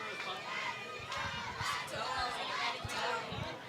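Spectators at a middle school football game between Woodside and Summit in Fort Wayne, Indiana, yell and roar together, a loud, dense wall of shouting with rising bursts and rumbling stomps.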